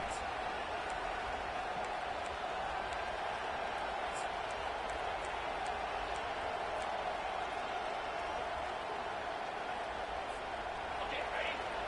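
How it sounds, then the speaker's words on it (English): A home stadium crowd roars steadily throughout a Hurricanes vs Michigan football game as the defense faces third down, a dense, sustained wash of cheering voices. "Here comes this home crowd as the defense tries to get off the field on third down."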